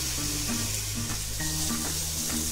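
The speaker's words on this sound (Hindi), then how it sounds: "टोमेटो प्यूरी को तब तक कुक करना है जब तक ये ऑयल सेपरेट ना हो जाए" Tomato puree cooks in oil in a pan for a masala egg curry, giving a steady, close sizzle and bubbling with occasional stirring scrapes, no voices.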